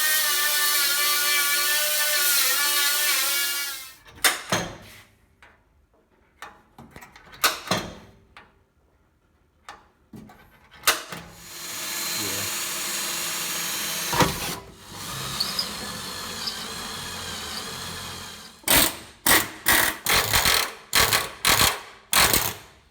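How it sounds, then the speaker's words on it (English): A die grinder cuts through seam sealer on a car tail panel in long, loud, high-pitched whining runs, then stops, leaving pauses and scraping, before a quick series of short bursts at the end. "we're gonna use the die grinder and try to cut some of that down"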